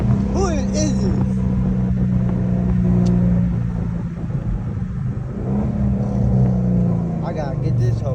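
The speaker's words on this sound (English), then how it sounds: "It's a little track car." A small track car's engine drones steadily close by while driving, a low sustained rumble with slight revving swells, under a voice talking over it.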